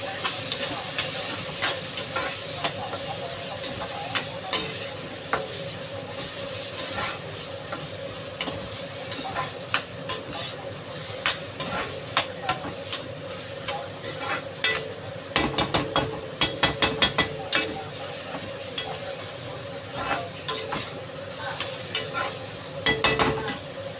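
Sliced onion and green chillies frying in a pan for tomato thokku, a steady soft sizzle broken by frequent scrapes and taps of a spoon stirring against the metal, no talking.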